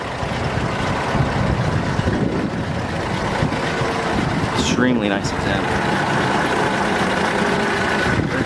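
A 1941 Chevrolet Master Deluxe Sedan Delivery engine idles on its lowest throttle, a steady low rumble that stays constant throughout while someone talks over it.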